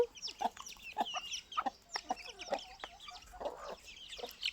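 A flock of Giriraja chickens clucks and murmurs continuously, with quick sharp notes scattered through, moderately quiet and near, without any speech.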